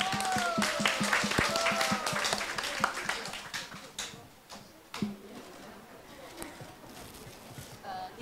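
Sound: fans applauding at birthday party

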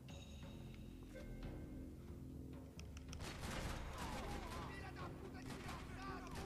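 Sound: blind fire gunshots in video game Max Payne 3

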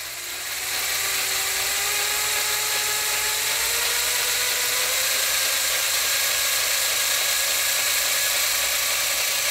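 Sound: 12-volt motor spinning a lightsaber, voltage being turned up

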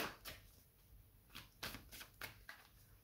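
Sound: shuffling tarot cards

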